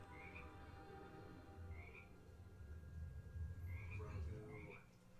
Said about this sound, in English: Luke's gonna save the frog.